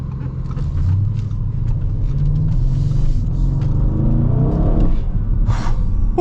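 A 2025 Audi RS6 Performance in dynamic mode accelerates hard, its engine a deep, steady rumble that swells into a rising roar and holds loud throughout.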